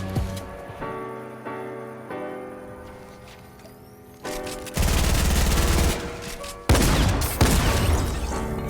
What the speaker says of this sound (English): He heard his opponent get sniped.